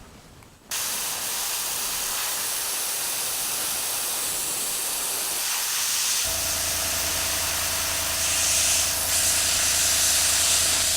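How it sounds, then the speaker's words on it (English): Airbrush spraying paint for a quick test before priming a BT-7 model build, a steady continuous hiss that starts abruptly and holds for several seconds, joined midway by a low constant hum, close and loud with no talking. "I'm going to get some paint in the cup and hopefully get this started, just to make sure we're spraying okay"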